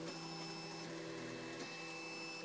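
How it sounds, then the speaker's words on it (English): A Solidoodle 2 3D printer running without its outer case, giving a steady mechanical whir with sustained motor tones and small shifts in pitch, close and continuous with no talking. "and this is a Solidoodle 2 printer."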